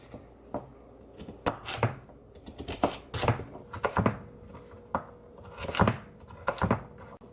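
Knife chopping peeled sweet potatoes on a board, a run of sharp, uneven thunks in quick bursts with short pauses, close and fairly loud, with no talking.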